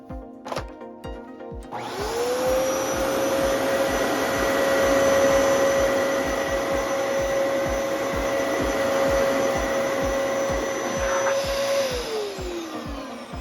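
Dyson DC18 vacuum cleaner running on its carpet setting, starting up with a rising whine that settles into a loud steady motor roar and airflow hiss, then winding down at the end; rhythmic bumps of the head moving underneath.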